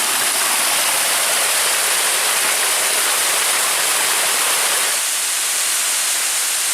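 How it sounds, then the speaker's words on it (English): A small forest waterfall tumbles over a rock ledge in winter woods, giving a steady, full rushing roar close to the microphone that drops slightly in level near the end, with no voices. "And here's the waterfall."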